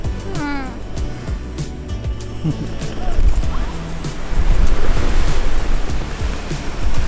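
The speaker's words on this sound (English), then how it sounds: "it was still very windy." Loud, rumbling wind in the Western Utah desert buffeting a microphone, gusting stronger midway, with brief faint voices and a short animal-like cry near the start.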